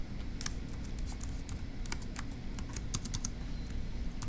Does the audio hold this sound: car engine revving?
no